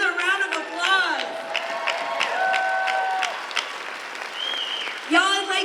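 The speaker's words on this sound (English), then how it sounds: "Another round of applause." A town hall audience claps and cheers through a short burst of applause, with voices calling out over it.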